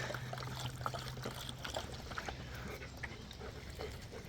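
Water poured out of a pig waterer in a garden area by a pergola, a steady trickling, splashing stream running throughout at moderate level, close by with faint outdoor background.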